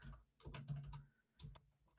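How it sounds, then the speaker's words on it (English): Rapid typing on a computer keyboard, heard as two close bursts of quick clustered keystrokes with a short pause between them and no talking. "typing too quickly"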